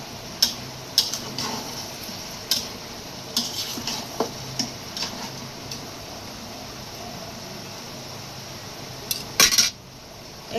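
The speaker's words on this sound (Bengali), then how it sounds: "এখন আমি এই কোরমার সাথে আর মিষ্টি কুমড়াটা একসাথে কষাবো" Crumbled korma meat and pumpkin sautéed together in a pan, with repeated light clinks and scrapes of a utensil against the metal over a faint, steady sizzle, close by.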